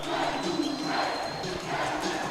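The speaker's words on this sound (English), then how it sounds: "And you can hear that crowd." A basketball student section at a Gross Catholic vs Ralston game roars in a steady, dense wall of cheering and shouting that never lets up.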